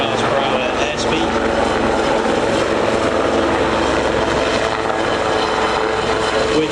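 A Westland Lynx helicopter flies backwards at about 35 mph at the Cotswold Airshow, giving a loud, continuous rotor and engine roar that stays steady throughout, with a commentator speaking over it.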